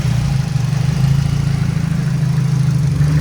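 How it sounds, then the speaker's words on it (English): A steady, low idle from a turbocharged Nissan Silvia S14 engine rumbles evenly throughout, close and constant with no revving or changes in pitch. "The engine sounds good though."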